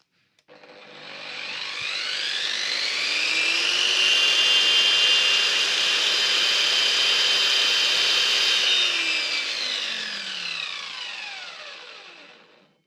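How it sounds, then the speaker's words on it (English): A brushed corded Erbauer track saw spins up, whines steadily at high pitch for about ten seconds, then winds down, with a workshop HEPA vacuum drawing dust alongside; loud, close and continuous, with no talking. "plug in my track saw so we can see how loud that is"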